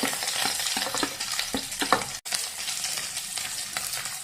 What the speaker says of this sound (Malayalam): കറിവേപ്പില ഇതെല്ലാം ചേർത്ത് നന്നായി വഴറ്റാം.